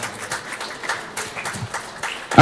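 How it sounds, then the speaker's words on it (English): Audience applause at NAIJA FEST 2023, a Nigerian community festival in Canada, as a fireside chat speaker is welcomed; a fairly faint, brief patter of scattered claps from a crowd, with a louder burst at the very end. "Please, a round of applause for her."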